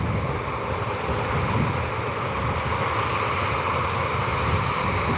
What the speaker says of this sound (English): It gets loud here, you know, again, hear the loudness here at that plane. Hear the loudness of the Southwest.